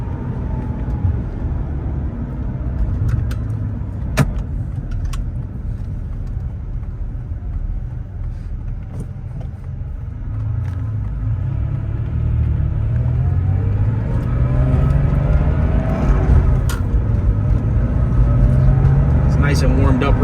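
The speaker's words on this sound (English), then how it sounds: "there's nothing like driving an air-cooled 911" An air-cooled 1989 Porsche 911 Carrera coupe with 55k miles drives on, its flat-six engine a steady low rumble that swells as revs climb, heard from inside the cabin with road noise throughout.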